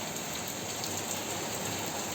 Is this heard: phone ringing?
no